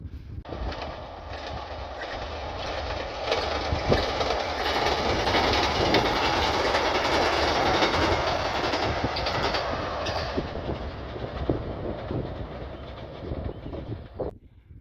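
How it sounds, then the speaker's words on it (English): A train from Borth crosses a railway bridge over the Afon Leri on the Wales coast, a steady, loud, close rumble with rhythmic clickety-clack of wheels lasting throughout before fading at the end, with no voices. "there's a train coming from Borth"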